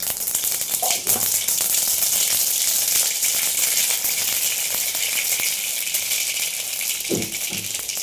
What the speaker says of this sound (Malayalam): പാൻ വെച്ച് കുറച്ച് വെളിച്ചെണ്ണ ഒഴിച്ചു കൊടുത്തിട്ടുണ്ട് അതിലേക്ക് കുറച്ച് കടുക് ഇട്ടു